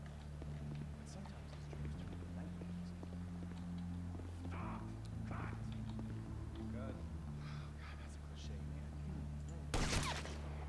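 Gunfire in Grand Theft Auto V: one sharp, loud burst of shots near the end, over a steady bed of game music and background noise, with people talking.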